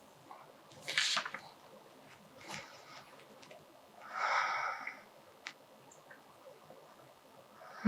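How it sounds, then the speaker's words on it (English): Slow, deep breaths drawn in and pushed out through the nose during a beginner yoga stretch, several soft airy inhales and exhales close by in a quiet room. "Three deep breaths."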